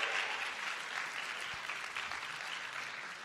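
Audience at the GCU Canyon Challenge event claps in a dense, steady round of applause, a sustained wash of many hands at moderate distance with no voices over it.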